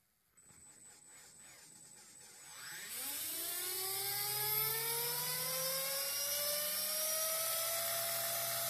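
Bench spin-up of an electric Oxy 2 RC helicopter with a soft start: a faint start, then the rotor whine climbs steadily in pitch and volume over a few seconds before settling into a loud, steady high whir.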